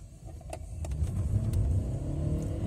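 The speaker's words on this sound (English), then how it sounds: "we're going to do a 0 to 60 on this road real quick" A car with an aftermarket exhaust accelerates hard from a standstill toward 60 mph on a road, its engine note building into a steady, loud rumble close up, with a brief tire spin at launch.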